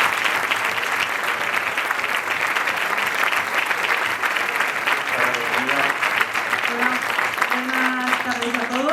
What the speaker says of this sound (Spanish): Pido un fuerte aplauso para Sara Martín